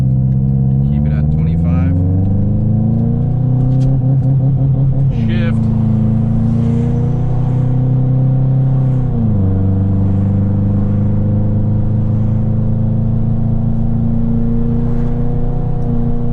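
A Subaru Legacy GT on an e-tune pulls hard through the gears, its engine note climbing steadily, dropping at each shift, then climbing again, loud and close from inside the car.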